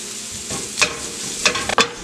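Steady low sizzle of coconut, shallots and curry leaves frying in a pan over a low flame, with a few sharp stirring scrapes near the end and no talk.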